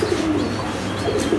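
A racing pigeon hen coos softly in a breeding loft, two short low coos at the start and end of a brief, quiet moment.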